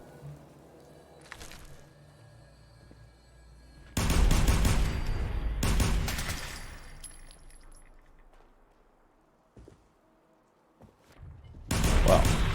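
Gunfire in Fallout 4, heard as a few loud, sharp bursts of rapid shots separated by quieter stretches of background game sound.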